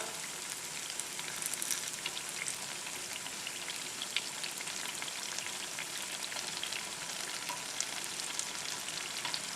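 Unniyappam fry in hot oil in a pan, a dense, steady sizzle and crackle close by, with small scraping and bubbling bursts as the pieces are turned over, and no talking.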